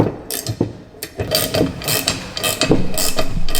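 A 17mm ratchet clicks in short bursts while turning a nut on a Ford Focus ST anti-roll bar drop link, the pawl ticking close up with brief pauses between strokes.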